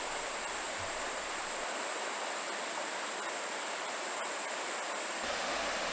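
Baekdam Valley stream flowing between rocks, a steady even rush of water filling the scene with constant hiss and no pauses.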